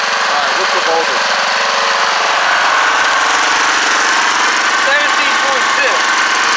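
Small homemade portable DC generator engine running steadily and loudly, a constant mower-like drone with faint voices over it.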